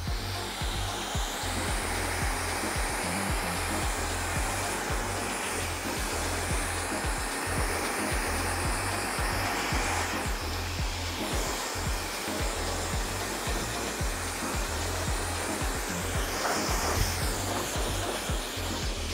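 A hair dryer blows air through freshly colored hair in a salon, a loud steady close whoosh with slight shifts in tone as it moves, and no voices.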